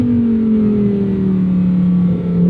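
A 2024 Lamborghini Huracan Sterrato engine holds a loud, close, steady rev with a smooth sustained tone that drifts slightly lower, ending in a brief rise.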